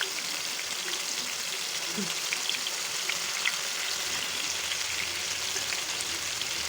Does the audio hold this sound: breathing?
no